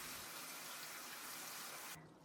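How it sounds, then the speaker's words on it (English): Pickled cabbage being rinsed under a running cold-water kitchen tap, a steady soft rush of flowing water that cuts off near the end, with no talk. "rinse the pickled cabbage with cold water"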